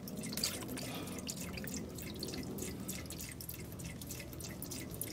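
Transmission fluid drains from the oil pan drain plug of a Mercedes W204 C-Class with a 7G-Tronic 722.9 gearbox, making a steady, faint patter of drips and trickling liquid throughout.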